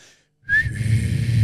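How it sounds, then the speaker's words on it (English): Someone gives a short bright whistle, then hums and whistles at once, the low steady hum carrying under a faint whistle tone, close and alone. "she can hum and whistle at the same time"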